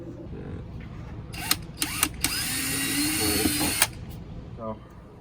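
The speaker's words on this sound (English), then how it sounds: "So put several screws in it, and it's holding this up and tighter" A power drill drives screws during a repair, giving a couple of short bursts and then a longer steady whir up close, with a faint ratcheting click at the end.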